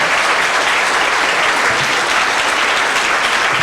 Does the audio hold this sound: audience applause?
yes